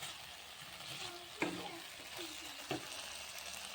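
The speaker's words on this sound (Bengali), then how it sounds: "এবার আমি তাকে ঢেলে দিচ্ছি, ভালো করে মাখিয়ে নেব।" Flour dough mixture sizzles and fries in a pan while being stirred, a soft steady crackle with a couple of brief scraping knocks, faint and close.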